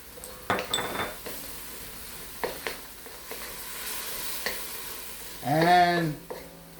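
Chinese broccoli (gai lan) is sautéed in a pan. A few sharp utensil clinks and stirring scrapes sound over a low sizzle, and there is a brief louder clatter near the end.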